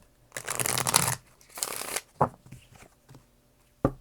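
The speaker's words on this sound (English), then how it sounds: "we had a card fall out of the deck while I was shuffling" A deck of tarot cards is shuffled in two long riffling bursts, followed by a few soft taps and a sharp card snap near the end, all close up with no talk.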